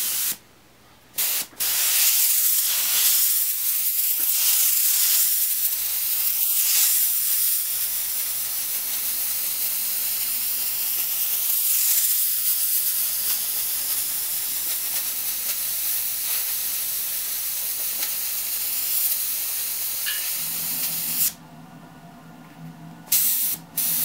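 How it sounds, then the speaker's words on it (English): Badger Krome airbrush spraying thinned black paint in lines and dots, a continuous close airy hiss broken by brief pauses and short bursts. "we'll spray some lines and we'll spray some dots"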